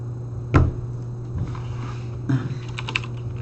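Someone types on a computer keyboard in a quiet room with a steady low hum in the background, leaving a few sparse, soft key taps and clicks with short pauses between them.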